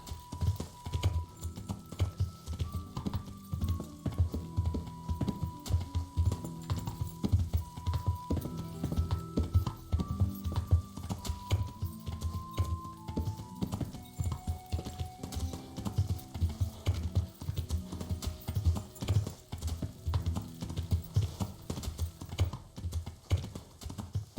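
A horse galloping in the medieval game Kingdom Come: Deliverance: steady, rhythmic hoofbeats close up throughout, over a soft melodic music score.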